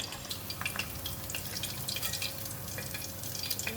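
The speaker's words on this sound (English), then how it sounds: "You just need to let the oil drips first." Hot oil drips and sizzles steadily off a freshly deep-fried fish held above the pan, a faint, continuous crackle with scattered drops and no talking.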